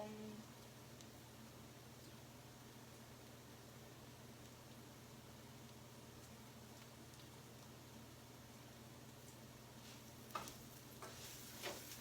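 A quiet, steady sizzle of rice toasting in a pan with tomatoes, onion and garlic, a soft hiss continuing throughout with a couple of faint clicks near the end.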